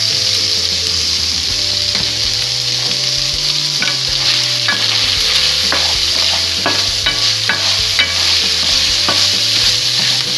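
Enchilada filling seasoned with chili powder sizzles steadily in a pan, with repeated scraping stir strokes cutting through the constant frying hiss, close and fairly loud.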